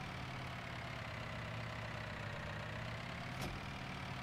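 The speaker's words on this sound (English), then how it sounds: "Now the tractor doesn't want to go ahead." A tractor engine idles in Farming Simulator 19, a steady low rumble that holds even for several seconds, with a brief click partway through.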